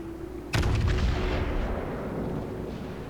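Warship guns boom in a World of Warships naval battle: one loud, sudden salvo with a rolling, echoing tail that fades slowly under a steady low hum.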